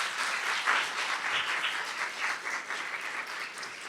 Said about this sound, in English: Graduates, I want you to give all those people behind you a round of applause for supporting you and being here today.